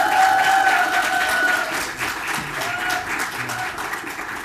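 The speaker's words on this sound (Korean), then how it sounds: "모두 큰 박수로 맞이해 주시기 바랍니다." An audience at a graduate school TESOL orientation claps to welcome a vice president to the stage. The applause is loud and full at first, then thins and softens over a few seconds as a tonal sound fades beneath it.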